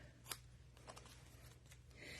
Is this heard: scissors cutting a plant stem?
yes